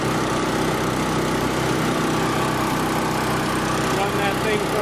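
A small engine running on wood gas through a carburettor, giving a steady, continuous buzzing drone close by with no change in pace.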